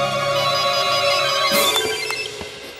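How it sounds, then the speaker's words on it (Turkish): A telephone rings with a steady electronic ringtone in a comedy scene, continuous and fairly loud, with a few sharp clicks and knocks near the end. "Hakan Bey'in telefonu."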